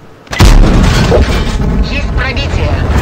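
A tank cannon fires in the World of Tanks battle game: one heavy, sudden boom that rolls into a sustained rumble, loud and close, with someone talking over it.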